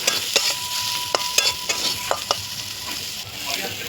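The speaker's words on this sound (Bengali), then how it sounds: "এবার তেলটা দিয়ে ভালো মতো কষিয়ে নেব।" Fish curry with oil, green chilli, salt and turmeric sizzles in a pan while being stirred, a steady close frying hiss broken by sharp scraping clicks of the spatula, with no voices.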